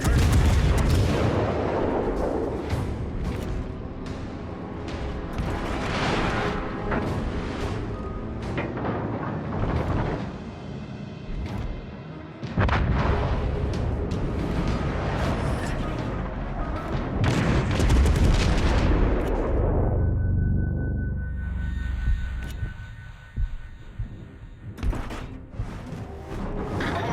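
Naval gunfire in World of Warships, a Tier 6 ranked battle with the cruiser York: repeated heavy booming salvos and rumbling blasts over continuous battle noise, with a few sharper cracks and a quieter stretch near the end.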